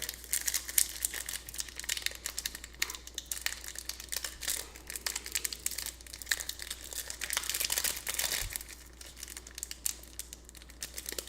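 Foil wrapper of a 2025 Topps Stadium Club baseball card pack crinkles and tears in steady close-up bursts, with constant rustling and crumpling for several seconds and no talking.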